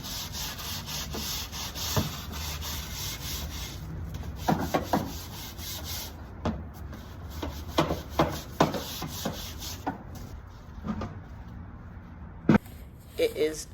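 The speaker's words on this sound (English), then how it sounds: "Then you take that bucket of soapy water and your brush and you want to scrub down the floorboard, the gas and brake pedals" A brush with soapy water scrubs a golf cart floorboard and pedals, giving a close, steady rasping rub with irregular strokes and occasional knocks, while a person talks over it.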